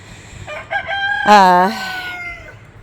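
A rooster crows loudly once, a rising then drawn-out call, preceded by a few short clucks from a nearby flock of 26 hens.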